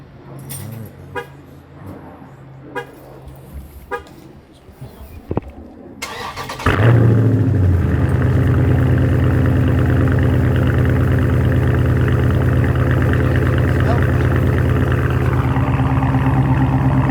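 A Dodge Charger Hellcat V8 with an AWE exhaust. Quiet clicks and rattles come first, then the engine cranks and fires with a sudden loud bark and settles into a deep, rumbling idle that stays close and steady.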